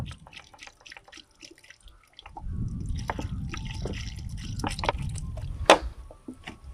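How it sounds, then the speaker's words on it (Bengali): About a litre of cow urine poured into cow dung mixed with water for a compost heap: a few scattered drips, then a continuous splashing pour with gurgles, ending in a sharper splash. "আমি এই যে জলে গোবরটা মিশিয়ে নিয়েছি, তাতে এবার আমি গোমূত্র যে 1 লিটার নিয়েছিলাম সেটা ওর সঙ্গে মিশিয়ে দেবো"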